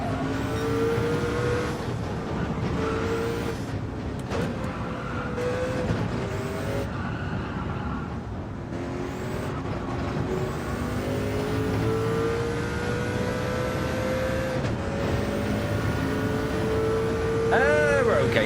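Race car engine in Gran Turismo 7 during a Le Mans 24-hour event, a steady loud drone with rising and falling gear-change pitch sweeps throughout, a voice talking over it.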